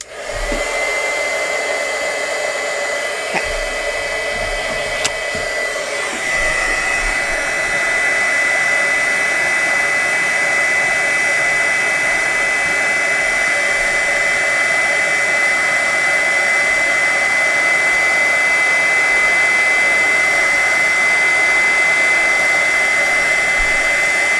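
Heat gun blowing for embossing handmade Christmas cards, a loud continuous whooshing roar that steps up in pitch after a few seconds and then holds steady and alone for a long stretch.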